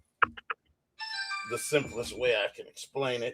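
A mobile phone ringtone chimes in bright tonal bursts beneath someone talking during a football discussion show, following a few sharp clicks.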